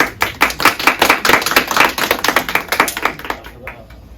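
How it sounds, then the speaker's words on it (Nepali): Audience at a poet's book launch breaks into applause for the poet, a dense round of clapping carried steadily for several seconds with sharp individual claps standing out, fading slightly toward the end. "हाम्रा कविवरलाई पनि तालीले हामी सम्मान गरौँ।"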